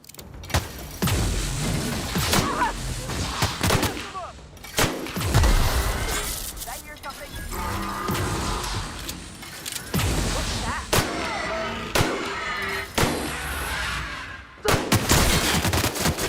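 Loud, dense gunfire from a gun in the video game The Outer Worlds: rapid bursts of shots that run almost continuously, broken by a few short pauses, with no talk over them.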